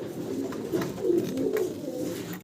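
Lahori pigeons coo close by in low, throaty rolling calls that repeat and overlap over a couple of seconds.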